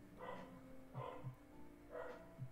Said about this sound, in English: Sounds like the dogs are getting lonely.